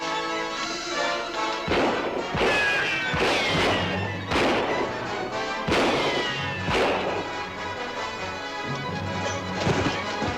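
Gunfire and bullets ricocheting off Superman in a classic black-and-white serial: repeated loud sharp cracks and smashing impacts over a dense, busy soundtrack, with several bursts spaced a second or two apart.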